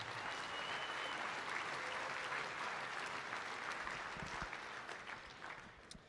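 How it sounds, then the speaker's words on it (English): Audience at a livestock auctioneer championship awards ceremony breaks into sustained applause, a thick wash of clapping that holds steady and then thins out toward the end, with no speech over it. "Let's give these folks a round of applause."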